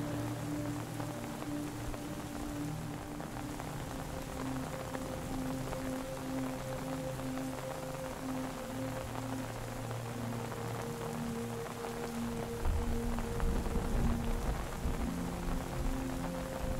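Steady rain patters on a tent at a campsite at night, a constant even hiss with low tonal hum, growing somewhat heavier and denser toward the end.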